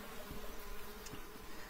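Honey bees buzz at a hive during queen rearing, a close, continuous humming drone with small fluctuations and no speech.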